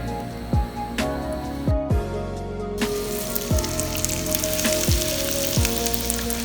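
Crab cakes fry in hot oil in a pan, giving a steady broadband sizzle with crackling pops, broken by a few soft clunks of handling near the mic; no talking.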